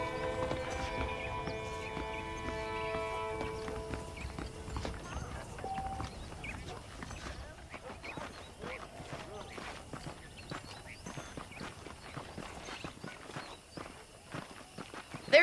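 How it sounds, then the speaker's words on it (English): Steady clip-clop of horse hooves walking in Red Dead Redemption, rhythmic and fairly close, with a neigh early on and game music fading out over the first seconds. "The horses are saddled up over here."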